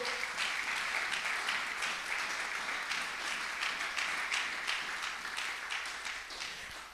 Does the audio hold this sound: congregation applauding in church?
yes